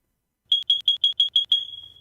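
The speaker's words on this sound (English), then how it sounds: "every single time you hear an F smoke alarm going off" A smoke alarm sounds a rapid series of seven sharp, loud, high-pitched beeps, the last one trailing off, with no talking.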